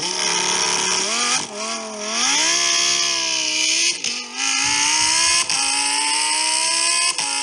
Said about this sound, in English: Can you feel that engine?